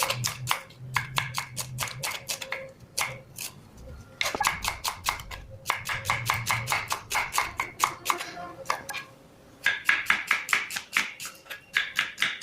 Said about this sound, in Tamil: அஞ்சு கிலோ வெங்காயமும் கட் பண்ணி முடிச்சாச்சுங்க.